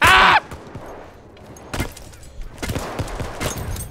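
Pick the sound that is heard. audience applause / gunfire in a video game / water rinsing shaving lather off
gunfire in a video game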